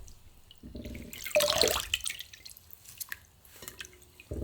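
Thin-sliced pork belly is lifted out of cold water in a kitchen, with splashing and a run of dripping and trickling water close by, then a few scattered drips and a faint low hum. No one speaks.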